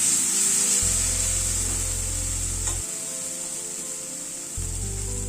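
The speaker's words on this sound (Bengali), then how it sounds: "টমেটোটাকে দিয়ে আবার মশলাটাকে একটুখানি কষিয়ে নিচ্ছি" A spice paste with tomato is stirred and fried in a pan, giving a soft scraping and rubbing sound over a quiet sizzle, with a low hum coming and going in the background.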